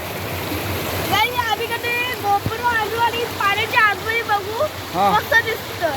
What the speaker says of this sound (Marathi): हे बघा पाण्याचा आवाज पण तुम्हाला येत असेल